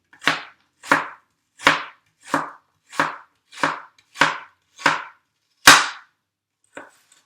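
An onion is chopped on a cutting board with a sharp knife, about nine crisp, evenly spaced chops about one per 0.7 seconds, close and clear, then a single fainter tap after a pause.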